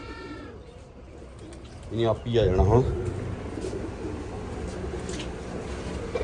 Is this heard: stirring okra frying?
no